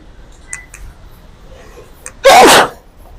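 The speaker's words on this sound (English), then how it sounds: "It felt like it was going to be a really big sneeze." One sudden, loud sneeze bursts out close by, preceded by a couple of faint sniffs in an otherwise quiet room.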